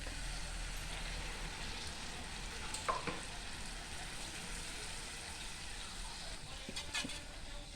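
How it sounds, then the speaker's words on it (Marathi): Water from a mixer jar pours into masala frying in a pot for a stuffed brinjal dish on a low gas flame, giving a steady continuous sizzle with brief splashing bursts, no talk. "भांड्यातलं मिक्सरमधलं पाणी टाकून घेऊया त्यात"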